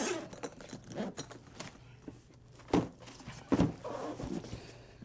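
A Protec iPac IP306CT tenor trombone case being opened: scattered clicks, clunks and rustles from latches and lid, close and fairly quiet.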